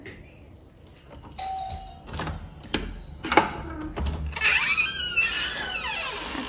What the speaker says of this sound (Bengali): এক্ষুনি কলিং বেল বাজাবে